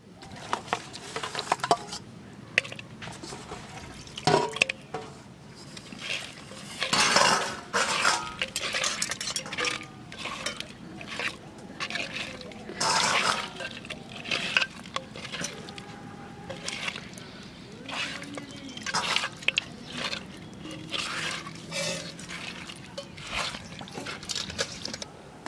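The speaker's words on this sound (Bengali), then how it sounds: "কই মাছ মশলার মধ্যে দিয়ে মাখাই নেব" Koi fish being mixed by hand into spice paste in a metal bowl or pan, giving wet squelching and clinking scrapes in irregular bursts, with faint talk in the background.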